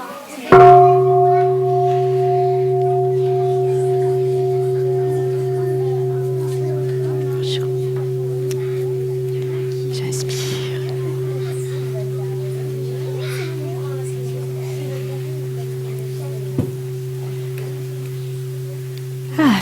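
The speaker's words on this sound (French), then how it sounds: "On va écouter un son de cloche" A meditation bell is struck once, its clear tone swelling near and loud, then ringing on in a long, slowly fading sustain with steady overtones for the rest of the clip.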